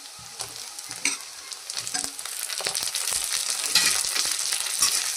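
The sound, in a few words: chopped tomatoes frying in pan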